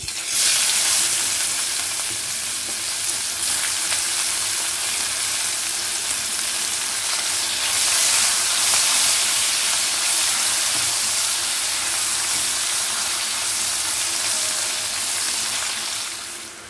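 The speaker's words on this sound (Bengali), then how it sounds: "একটা দারচিনি স্টিক। নাড়িয়ে দিলাম। এবারে দিয়ে দিচ্ছি ছোট একটা পেঁয়াজ কুচো।" Chopped onion and a cinnamon stick fry in hot oil with occasional stirring, a loud, continuous hiss and crackle that stays close and nearly unbroken throughout, with no voices.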